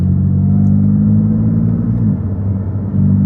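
BMW F80 M3 engine heard from inside while driving, a loud steady low rumble with deep droning tones that shift briefly mid-clip, with no talking.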